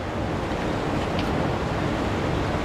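Spring water from the mountain runs among rocks as a steady, dense rush, close and continuous with no pauses.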